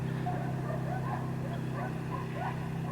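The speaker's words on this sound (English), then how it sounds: "Maybe you can hear all those dogs from here" Dogs of a hunting pack gathered before a wild boar hunt bark and yip in scattered bursts at a distance, over a steady low engine-like drone and faint background talk.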